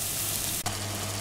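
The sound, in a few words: onion sautéing in a pan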